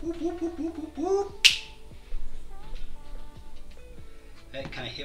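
Thrown dice strike a craps table with one sharp, loud knock partway through, set between stretches of someone talking.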